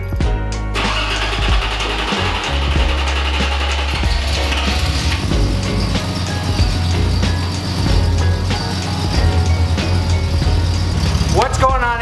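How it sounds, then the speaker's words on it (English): Datsun 280z cranking briefly then catching and settling into a loud rough idle with occasional revs, close by, ending with a sharp sweep of noise. "getting the Datsun all fired up for the first time this year"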